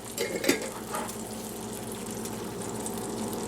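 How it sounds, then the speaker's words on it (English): Pickle juice poured into a hot skillet holding browned crumbles for chicken piccata, giving a soft, steady sizzle and bubbling hiss with a brief louder splash near the start, close by and without talk. "we'll put that in there to deglaze the skillet, get all those good little crumbles up"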